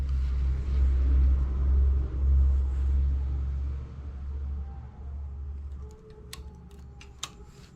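A knitting machine carriage slides across the needle bed in a low, rumbling mechanical sweep that fades after a few seconds, followed by a few sharp clicks and ticks, close and unaccompanied by speech.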